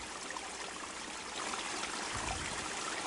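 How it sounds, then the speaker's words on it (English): A river flowing, captured by an ambisonic microphone: a steady, broad rushing and trickling of water that fills the whole stretch evenly, close and continuous, with no voices or other sounds over it. "this is just the sound of the ambisonic microphone capturing the river"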